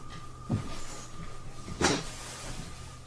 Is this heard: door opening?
yes